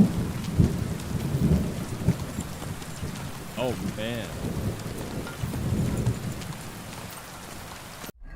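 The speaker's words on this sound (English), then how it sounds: "Dude, the thunder sounds so good." A thunderstorm rumbles in Kingdom Come: Deliverance 2, with deep rolling thunder over steady rain on surfaces, continuous and close. A man briefly mutters over it.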